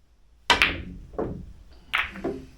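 Snooker balls strike in a cannon shot, a few sharp hard clicks spaced out over a couple of seconds, close and clear against near silence.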